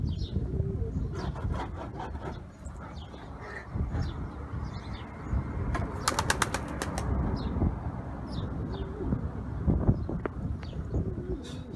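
Pigeons in a loft flap their wings in several quick bursts, with soft cooing and rustling underneath and occasional high chirps from young birds, all close and moderately loud with no talking.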